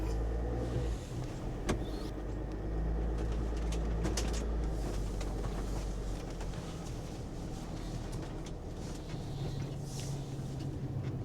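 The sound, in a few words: Winnebago View motorhome backing up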